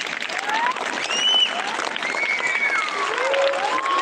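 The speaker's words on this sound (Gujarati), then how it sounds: "આપણે સૌ તાળીઓથી એનું અભિવાદન કરીએ." An audience at an Independence Day flag-hoisting program claps to welcome the chief guest, sustained dense applause filling the whole stretch at a fairly close distance, with no speech over it.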